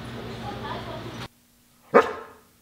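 A voice is followed by a pause, then one short, sharp dog bark close by.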